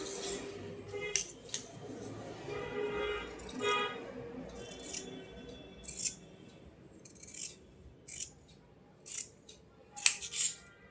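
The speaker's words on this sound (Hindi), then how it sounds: "अब इसको मैं इस कपड़े को मैं काट के निकाल लूँगी।" Scissors cutting through suit fabric, with a series of short snips and crisp metallic clicks spaced irregularly over a quiet background, some soft handling noise between cuts.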